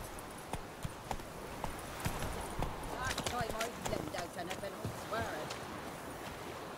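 Geralt's horse Roach galloping in The Witcher 3: Wild Hunt, a run of rhythmic hoof clip-clops with a brief whinny, moderately close, while a voice speaks over part of it.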